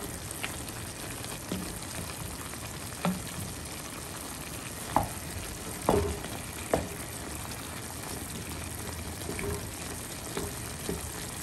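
Pork adobo sizzles steadily in a pan after soy sauce is poured in, a constant frying hiss broken by a few sharp clicks and scrapes of stirring, with no talk.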